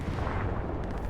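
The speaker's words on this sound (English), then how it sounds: "Stuka and an accurate hit for Botterock on the tank." A Stuka dive bomber striking a tank in a competitive Hell Let Loose match, a deep, heavy rumbling blast that fills the moment, loud and close.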